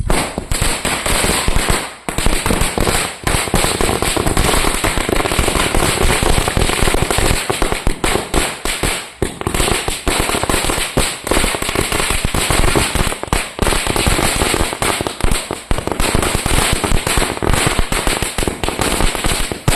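A Diwali 1000-wala firecracker string bursts in a rapid, relentless chain of sharp bangs and crackles that runs loud and unbroken for about twenty seconds.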